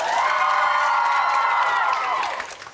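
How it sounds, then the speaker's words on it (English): Studio audience of a game show bursts into sustained applause and cheering with whoops, loud and full for about two seconds before tapering off, with no talk over it. "Round of applause, Mr. Burgess."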